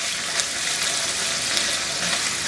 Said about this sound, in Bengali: ওই একই কড়াইতে আমি আরেকটু তেল দিয়ে এই মুরগিগুলা পিসগুলোকে আমি একটু ভেজে নিব বাদামি করে।